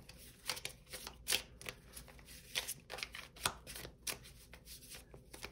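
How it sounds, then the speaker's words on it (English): A deck of tarot cards is shuffled close up, a run of quick papery riffles and soft slaps in uneven bursts, with no talk. "Let's go ahead and shuffle and pull a few more."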